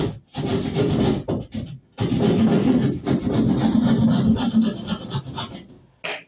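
A hand saw cuts through a plaster wall to open a hole for an electrical receptacle box, giving loud, close, continuous rasping strokes with brief pauses between runs.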